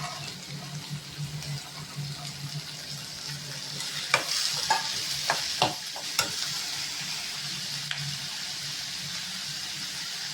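Soft sizzling and frying of tomato, peas, carrot and beans sautéing in a pan for vegetable rava kichadi, with a few sharp stirring scrapes and clinks midway, fairly quiet and close.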